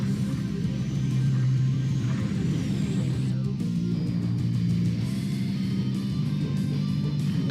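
Retro N64 racing game in the vein of F-Zero, played on a Super Console X, with a steady droning engine hum and rumbling low buzz running continuously at even loudness throughout.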